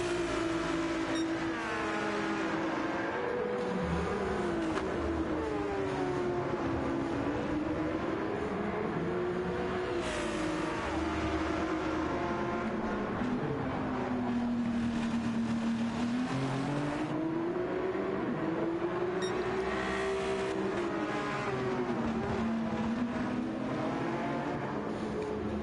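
Racing cars lap the Brands Hatch circuit, a continuous engine drone rising and falling in pitch as cars accelerate and brake through corners, steady and prominent throughout.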